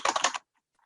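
Quick burst of typing on a computer keyboard, several clicky keystrokes lasting under half a second, then silence.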